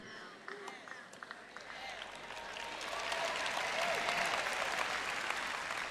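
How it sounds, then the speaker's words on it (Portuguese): Thin, sparse applause from a church audience at a Portuguese-language sermon, scattered claps that fill in and grow slightly denser toward the end, heard at a moderate distance in a large room. "Foi um aplauso bem fraquinho, viu?"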